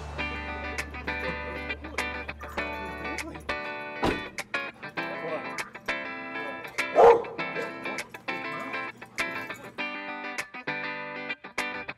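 A sheriff's department police dog barks repeatedly in sharp, loud bursts at close range, with a person talking between and over the barks and a steady low hum in the background.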